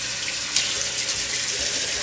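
Tap water runs steadily into a bathroom sink for face washing, a close, continuous hissing splash with no talking over it.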